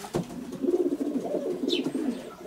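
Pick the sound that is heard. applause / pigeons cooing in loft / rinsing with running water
pigeons cooing in loft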